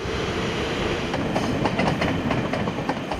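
A train runs along a railway that splits Yuli Junior High in Zhuolan County, Taiwan. It is loud and close, with a steady rumble and rhythmic clickety-clack of wheels over the rail joints throughout.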